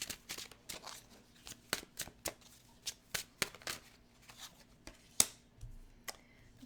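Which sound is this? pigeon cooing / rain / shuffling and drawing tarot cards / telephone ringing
shuffling and drawing tarot cards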